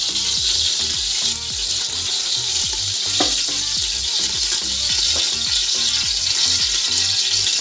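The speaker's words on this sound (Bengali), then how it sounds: "এখন আমি 3 টেবিল চামচ সরিষার তেল দিয়ে দিব।" Mustard oil sizzles in a pot on a stove, a loud, steady frying hiss close by. Repeated low scraping, ratchet-like clicks run through it, with no voices.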